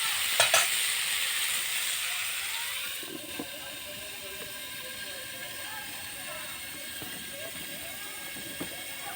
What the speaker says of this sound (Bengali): এবার এটা আমি ভালো করে ভেজে নেব